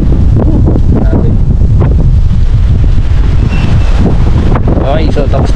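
Strong gusting wind buffets the microphone at Dingalan, Aurora, a loud, continuous roar with low rumbling, and voices can be heard faintly underneath.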